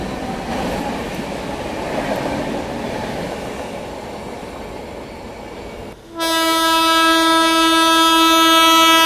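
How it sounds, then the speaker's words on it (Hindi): Trains passing at Firozabad in the early morning, the Sampoorna Kranti Express overtaking the Amrit Bharat Express: a loud rumbling rush of rail cars, then a long, steady, sustained horn blast dominating the final seconds, with no talk. "सुबह के 5:45 पे ओवरटेक कर रही है अमृत भारत को फिरोज़ाबाद पे।"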